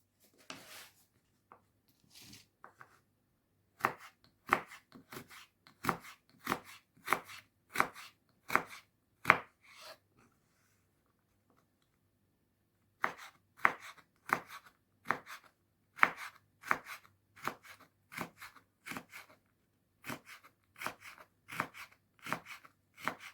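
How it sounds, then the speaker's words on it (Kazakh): A knife finely chops carrots on a cutting board in quick, rhythmic bursts of sharp, close taps, pausing briefly between runs before resuming at a steady pace. "Мінекей барлығын осылай ұсақтап турап аламыз."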